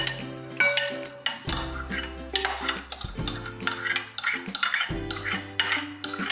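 Shredded cabbage going into a degchi cooking pot for chicken potato cutlets, with metal utensils clinking and clattering against the pot in irregular bursts over a steady tonal background.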